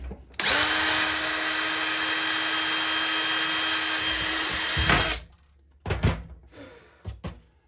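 A power drill drives a 1 1/4 inch screw deep into plywood beneath RV bamboo flooring, one loud close whine lasting about five seconds, followed by a few short clunks and handling noises.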